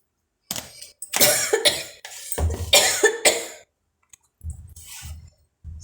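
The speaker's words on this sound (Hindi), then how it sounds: "थोड़ी खांसी सी आ गई थी" A woman coughs in several close, sharp bursts with pauses between them, followed by softer throat sounds, in a quiet home kitchen.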